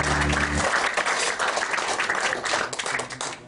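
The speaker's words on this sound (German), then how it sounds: "Das ist einen großen Applaus." Applause from a jazz club audience at a Nuremberg jazz studio concert, a steady wash of many hands clapping, with a brief tonal hum at the start and again near the end.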